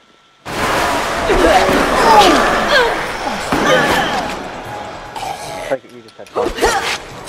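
A door blasting open in Resident Evil: Operation Raccoon City, a sudden loud burst followed by crashing debris and rumbling game noise that fades unevenly, with a few sharp thuds near the end.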